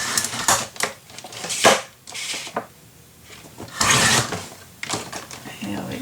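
Paper cut by hand for a Stamperia mini album craft project: several short crisp snips and rustles in irregular bursts, close and moderately loud, with someone talking quietly between them.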